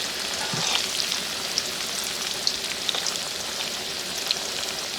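Khoyra fish coated in masala fry in hot spiced oil at an outdoor riverside spot, giving a constant bright sizzle with scattered pops and crackles throughout and no voices.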